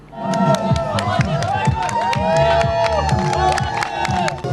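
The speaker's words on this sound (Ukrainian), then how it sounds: "На фініші чоловіка зустрічають бурхливими оплесками" A crowd at a half-marathon finish cheers an elderly runner, a loud, lively mix of whoops, shouting voices and scattered clapping close by, with excited calls rising and falling throughout.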